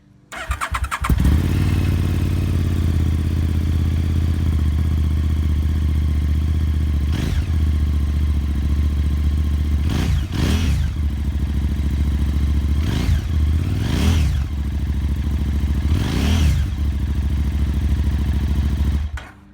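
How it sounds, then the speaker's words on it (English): A 2013 KTM 990 SMT motorcycle idles with a deep, steady exhaust rumble throughout, broken by several short blips of revving, close and loud, no voices. "So the camera really doesn't do the exhaust justice. It's a really nice, deep, rumbly noise."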